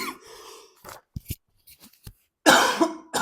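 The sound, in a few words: cough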